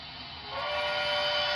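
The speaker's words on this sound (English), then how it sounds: "We have the horn slash whistle," A steady, shrill steam-whistle tone from an HO scale 4-6-2 Light Pacific model steam locomotive sounds continuously with a hissing edge, growing slightly louder and then holding.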